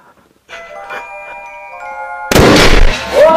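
A drink bottle bursts after a delay: a sudden, loud, full-bodied blast breaks in about two seconds into the clip, following a stretch of quieter ringing tones and small sounds.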